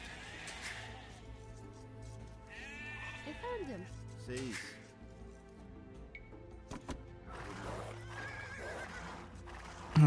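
In the video game Age of Empires 2, sheep bleat in short wavering cries amid horse whinnies, hoofbeats and game ambience, moderately loud over a low background hum.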